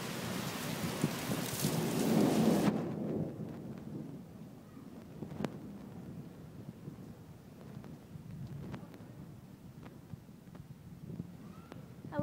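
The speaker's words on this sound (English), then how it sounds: "This rain here is crazy." Heavy rain pours in Las Vegas, a loud dense wash at first that suddenly drops to a quieter patter with scattered drips and occasional wind bumps on the microphone.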